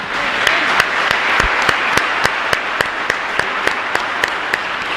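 A church congregation at Mass applauds the priest with loud, sustained clapping that fills the room, with a few sharper individual claps standing out.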